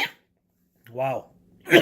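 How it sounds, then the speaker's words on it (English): A man coughs after a piece of crackling goes down the wrong pipe, two short harsh throat bursts separated by quiet, close to the mic. "Pardon the coughs. A little piece of crackling went down the wrong pipe"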